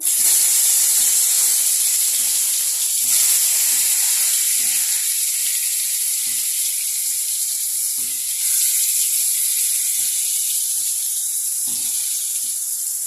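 Steady, loud sizzling hiss of pieces frying in hot oil, continuous throughout with occasional soft low pops and crackles.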